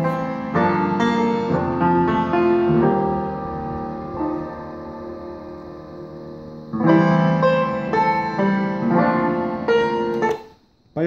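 Music plays through a Yamaha CR-620 stereo receiver set flat, with rich sustained notes and chords at a fairly loud, even level that dips sharply near the end.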